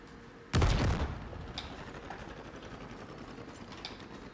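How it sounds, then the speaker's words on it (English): A grenade blast in the space game Star Citizen, thrown at the rear of a ship, goes off as one sudden loud boom, then a rumbling, crackling decay fades into a steady mechanical hum. "We are throwing now one grenade"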